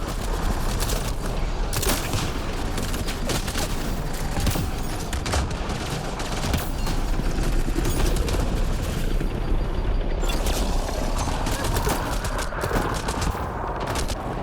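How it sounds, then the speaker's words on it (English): A grenade launcher fires in the video game Mass Effect Andromeda, with repeated loud blasts and rapid gunfire-like bursts over a dense, continuous wall of battle noise. "this is a fucking grenade launcher"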